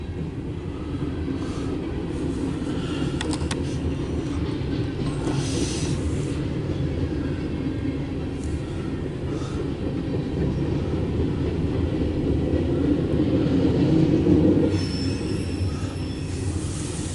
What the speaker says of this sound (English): Well, good morning, buddy. First train of today.